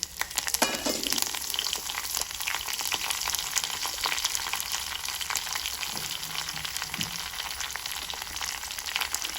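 Dry red chillies and garlic crackle in hot oil as a tempering for carrot chutney, a dense, even, continuous frying hiss with a few soft stirring knocks, close and unbroken, without speech.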